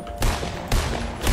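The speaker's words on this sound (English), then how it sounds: "who's shooting me now?" Gunfire in the Fortnite video game, several loud bursts of rapid shots arriving about every half second over a steady game background, with no talking.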